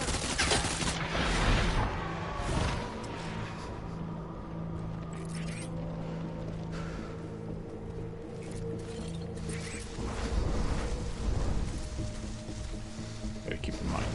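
Gunfire in the video game Death Stranding, bursts of rapid shots and impacts packed into the opening seconds and returning later over a steady low mechanical drone, with a player's voice talking over parts of it.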